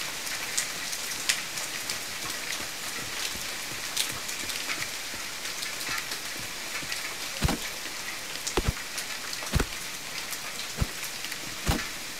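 Steady rain in the video game The Forest patters on a surface, with scattered louder drops standing out now and then against the constant hiss.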